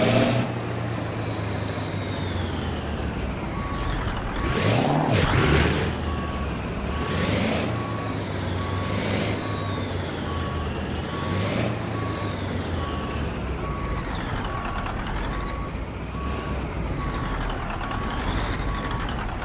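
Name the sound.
truck reversing to hook up trailer in American Truck Simulator video game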